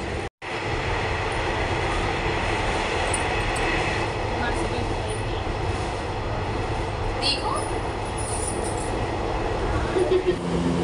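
Kanpur metro train running between stations, a steady loud rumble of rail travel and wheels throughout, with faint voices in the carriage.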